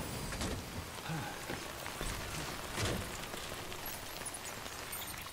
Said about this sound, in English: Yeah, it almost always rains over here.